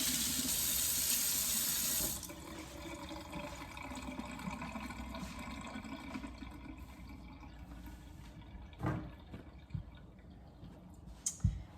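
Eggs being rinsed under a running kitchen tap, with loud steady water flow for the first couple of seconds, then quieter dripping and splashing broken by a few sharp clicks and knocks.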